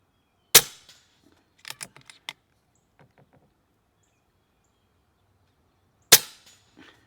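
Two sharp, loud shots from a .22 caliber Epic 2 air rifle with a 420mm barrel, several seconds apart, each a crisp crack with a short tail, separated by faint handling clicks and quiet thuds.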